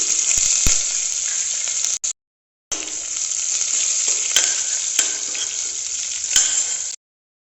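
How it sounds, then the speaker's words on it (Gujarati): Bay leaf, ginger and green chili sizzle and crackle in hot oil in a pan, a steady loud frying hiss with occasional pops and stirring clicks, broken by a short silent gap. "તમાલપત્ર, આદુ, લીલું મરચું,"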